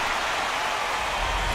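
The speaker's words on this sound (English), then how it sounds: "you can feel this crowd waking up a bit here" Crowd noise at a baseball stadium in MLB The Show: a dense, even wash of distant crowd murmur and roar, steady and loud throughout the short stretch, with no distinct voices standing out.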